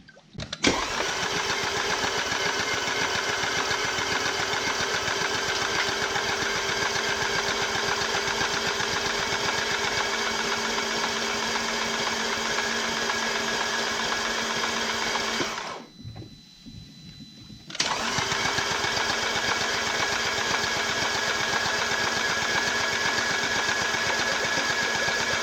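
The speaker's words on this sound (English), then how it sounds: "We're gonna spin the engine, crank it for 20-30 seconds so it primes all the tensioners" A steady, continuous mechanical whir of a 2.0T TFSI engine being cranked over with spark plugs out after timing chain replacement, running on and on, briefly dropping out for a couple of seconds, then resuming.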